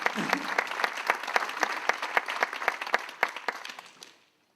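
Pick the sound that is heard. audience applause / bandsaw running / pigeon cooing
audience applause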